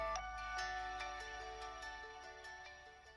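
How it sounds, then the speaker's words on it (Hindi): An incoming call makes a phone ring with a soft electronic ringtone, a repeating pattern of bright tonal notes at low level with no talk over it. "इतनी बार काटने के बाद भी वो फोन करता ही जा रहा है।"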